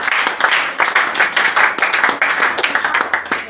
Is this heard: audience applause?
yes